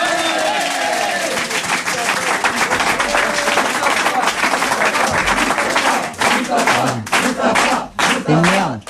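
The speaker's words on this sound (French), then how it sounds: "On l'applaudit, on l'encourage," Studio audience applauding and cheering for a comedy show guest, a dense sustained wash of clapping with crowd voices mixed in, thinning into a few broken bursts near the end.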